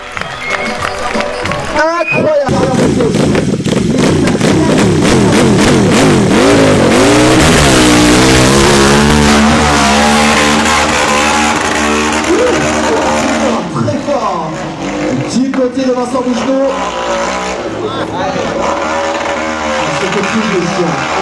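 A motorcycle engine roars at full power on a steep hill climb, rising and falling as the rider revs hard up the slope, loud and close throughout with an excited commentator talking over it.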